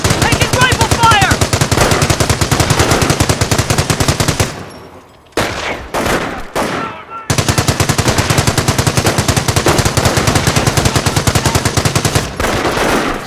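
Rapid rifle and machine-gun fire from a World War II battle in the strategy game Company of Heroes, loud and sustained in dense bursts, with a brief lull and a few isolated shots in the middle.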